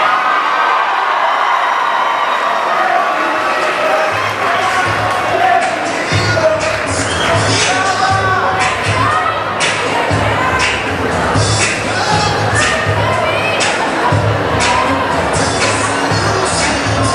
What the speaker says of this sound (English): let's give another round of applause to Miss Chelsea Beck